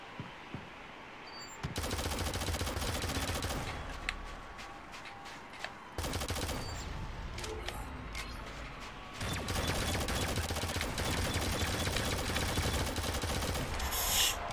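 Shadowgun Legends PvP match gunfire, with rapid bursts of automatic fire and sharp single shots in shifting volleys, loud and close, with game-effect sounds between them.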